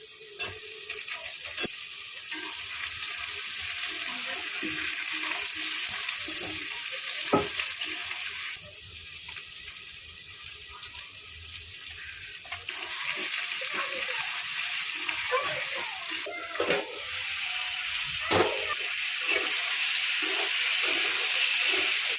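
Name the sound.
potatoes frying in a pan with meat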